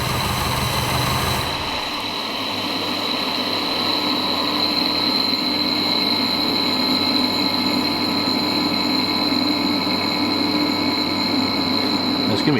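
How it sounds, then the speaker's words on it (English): A Mamba turbo on a 600 hp Subaru EJ257 engine winds down after shutoff: an abrupt drop in engine noise gives way to a steady, lingering whine and hiss that carries on for many seconds with no talking. "I'm going to go turn it off and we'll count for how long it takes to spool down."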